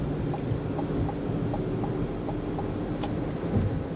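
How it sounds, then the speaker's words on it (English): Light electric motor whine and low road rumble from a 2025 GMC Hummer EV being driven, a steady continuous drone heard from inside the cabin with no talk. "Another thing that's cool is that it doesn't make a bunch of fake noise. You just hear like a light whine of the motors."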